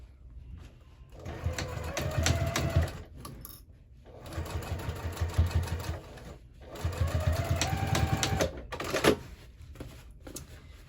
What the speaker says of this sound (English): these boxed bottoms, we're gonna go ahead and sew that at a 1/2 inch seam allowance